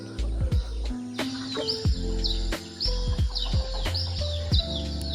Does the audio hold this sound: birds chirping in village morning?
yes